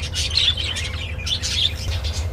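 Pet cockatiels and budgerigars chirp and tweet steadily at close range, bright repeated calls over a low background hum, with no talking.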